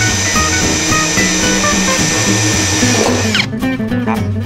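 A power drill drives screws into drywall board on a light wall frame, whirring loudly and steadily for several seconds before stopping abruptly, with faint clatter afterward.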